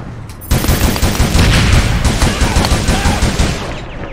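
Automatic gunfire in the video game APB Reloaded bursts out loud and close in a dense, sustained volley lasting several seconds, with rapid overlapping shots.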